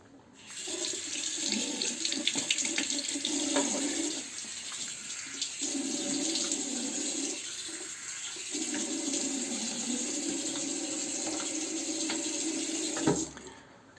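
A bathroom tap runs steadily into a sink while someone rinses their face after a shave, the water stream breaking and splashing with short pauses, fairly close and with no talking.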